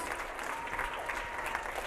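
Audience applause at a weekend seminar event, a steady wash of many hands clapping that stays even and fairly close throughout, with no voices on top.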